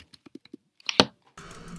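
Typing on a Mac keyboard fitted with a cover, picked up by the laptop's built-in microphone: a short run of soft, muffled key taps followed by a louder clack and a brief rustle.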